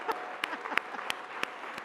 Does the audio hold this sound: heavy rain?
no